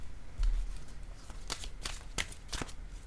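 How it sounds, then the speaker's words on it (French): A playing card slides off a deck during a tarot-style reading, giving several short papery flicks and snaps close by, with a soft rustle between them and no voices. "je vais piger une carte"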